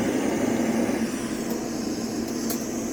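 A camping stove burner, Jetboil or MSR type, roars with a steady, loud broadband hiss like a jet plane, continuous and close throughout.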